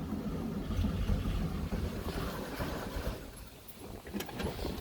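A 1974 Volkswagen Beetle with a freshly installed 1641cc engine runs steadily with a broad low rumble and slight throttle swells, fairly loud and close, no talking over it.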